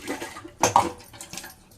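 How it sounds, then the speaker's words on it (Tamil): A brief slosh and splash of water swirled inside a blender jar to rinse it, two or three quick wet bursts up close. "இப்போ நம்ம அந்த ஜாரை கழுவின்னு கொஞ்சம் தண்ணி ஊற்றி"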